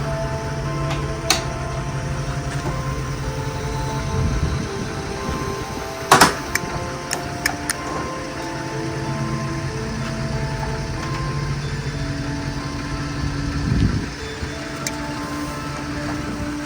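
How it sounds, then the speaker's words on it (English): BraunAbility power fold-out platform lift lowers from the side door of a 2018 Ford Transit, a steady motor hum with faint ticks, a sharp metallic clank midway, and another clunk near the end. "You can use this hand pendant on the side to bring the lift down."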